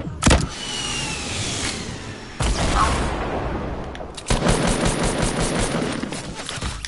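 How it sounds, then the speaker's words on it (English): Video game gunfire rings out in several sharp bursts and rapid volleys, loud and close, spread across the clip amid a continuous engine-like rumble. "Bro, why are you shooting me?"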